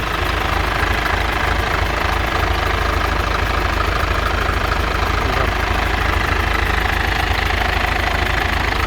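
An Isuzu 6HK1 diesel engine in a used dump truck idles close by, a loud, steady low rumble with a fine knocking clatter, continuous and without talk.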